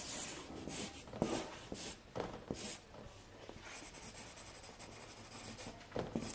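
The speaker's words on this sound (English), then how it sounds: "I will write my lesson." Pen or pencil scratches across paper as a lesson is written out by hand, a faint, close run of short rubbing strokes with brief pauses.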